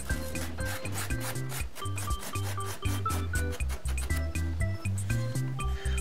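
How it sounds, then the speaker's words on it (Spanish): Rhythmic rasping strokes of sandpaper on a surfcasting fishing rod being repaired, a steady back-and-forth scrubbing repeated many times, close and fairly loud with no talking. "Y ahora vamos a lijar un poco para aquí para que se quede más rugoso para la hora de poner la punta"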